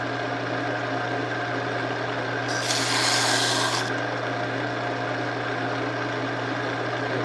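Segmented wood bowl spinning on a lathe and sanded with 80 grit, giving a steady rubbing hiss over the constant motor hum, with a brighter, harsher burst of abrasion for about a second midway.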